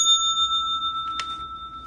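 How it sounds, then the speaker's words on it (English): A single service bell at a customs counter rings once, a bright ringing tone with a sustained decay, close by, heard alone. "Ring the bell once."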